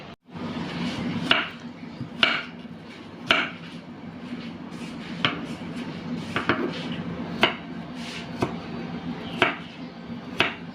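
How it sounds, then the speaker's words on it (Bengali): Knife chopping garlic into small cubes on a cutting board while preparing sizzling beef at home: steady, sharp, close taps at a regular rhythm, roughly one per second, over quiet background. "এই যে রসুনগুলো এরকম ছোট ছোট কিউব কিউব করে কেটে নিলেই ভালো হয়"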